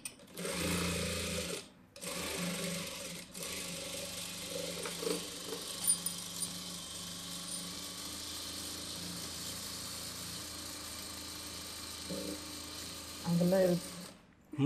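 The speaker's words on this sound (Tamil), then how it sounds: "எடுத்து விட்டு எஜ்ஜு தையல் போடுறேன்." A sewing machine stitches the neck edge of a boat neck blouse, a steady close mechanical whirr running almost continuously with brief stops, while people talk alongside.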